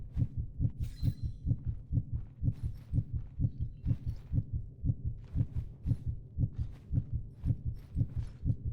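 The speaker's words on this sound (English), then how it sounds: "That heartbeat is the Rogue's invis" A steady, loud heartbeat pulses in Mistfall Hunter, signalling the Rogue's invisibility: an even double-thump rhythm repeating about twice a second, close and dominant, with faint game clatter behind it.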